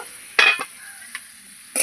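Potatoes browning in a covered home-kitchen pan, heard as a few short bursts of sizzle and stirring scrapes set apart by quiet gaps, close by with no talking.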